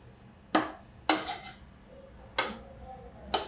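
A metal spoon scrapes and clinks against a pressure cooker while masale rice is served onto a plate, four sharp separate knocks spaced irregularly, close and clear.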